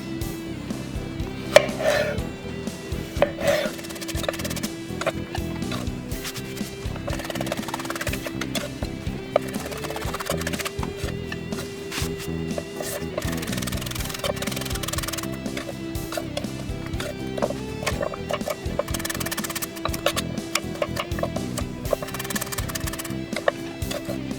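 Knife chopping tomatoes for tomato sauce, a steady run of quick knocks against a cutting board with kitchen clatter mixed in, close and fairly loud throughout.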